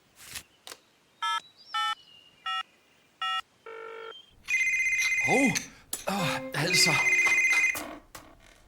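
A mobile phone is dialed with a series of separate beeping key tones, followed by a long, loud electronic ringtone. A voice briefly says a word partway through.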